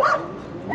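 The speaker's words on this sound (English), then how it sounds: "They got a lot of dogs back there." A dog barks once, fairly close, at the start, followed by quieter background noise and a hint of another bark at the end, in a neighborhood on the outskirts of Guadalajara.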